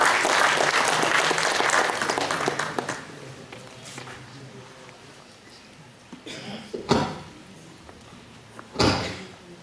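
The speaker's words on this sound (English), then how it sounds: "Please welcome him with huge round of applause." Audience applause at a financial literacy event held at an NIT in India, loud and dense for the first three seconds, then fading into room noise with a few thumps and knocks.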